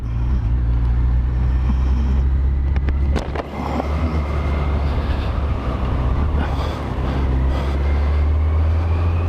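Car rolling through a few slow test laps on a new tyre on a freezing night, a steady low road rumble and engine hum with a brief clunk partway through, no talking.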